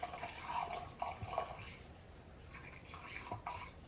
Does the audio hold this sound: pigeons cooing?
no